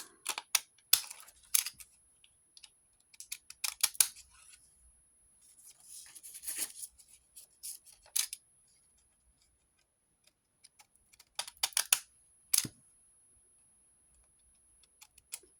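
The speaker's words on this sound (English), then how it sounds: "I have these decorative scissors. And I just cut right along the top of the edge just to give it a different little look." Decorative scissors snip along a paper edge in close, crisp bursts of quick cuts, separated by short pauses and quiet gaps.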